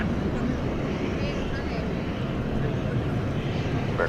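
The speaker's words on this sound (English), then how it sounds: "MD-11 now backing out, or MD-11 number 2." An MD-11 jet pushing back at DFW airport gives a broad, steady engine rumble and roar, constant and fairly loud, with voices talking over it.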